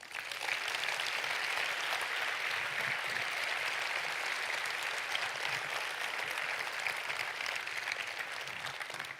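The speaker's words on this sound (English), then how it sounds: "I think we'll give them all a great applause." Audience at EVE Online Fanfest 2009 applauding the CSM panel, a dense, even wash of clapping that holds steady from start to finish with no voices over it.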